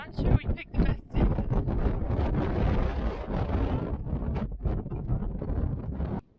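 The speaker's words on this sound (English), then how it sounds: "The wind is just fucking crazy." Strong gusting wind buffets the microphone on a high, dangerous mountain road during a snowy storm with blowing hail, a steady roar with sharp gusts near the start.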